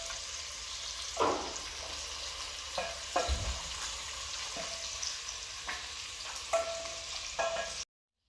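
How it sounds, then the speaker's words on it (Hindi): Onions fry in a pot with a constant crackling sizzle, broken by a few louder scrapes and clinks of stirring before the sound cuts off abruptly. "प्याज जो हमने डाले थे भूनने के लिए उनका कलर गोल्डन ब्राउन हो चुका है।"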